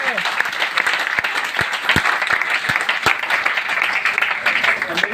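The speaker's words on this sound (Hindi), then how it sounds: "ताली होना चाहिए रिएक्शन के लिए।" Audience applause at a DXN gathering, steady and fairly loud across the whole stretch, with a few sharper individual claps standing out and some crowd voices mixed in.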